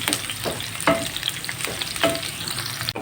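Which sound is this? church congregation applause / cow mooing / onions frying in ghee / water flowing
onions frying in ghee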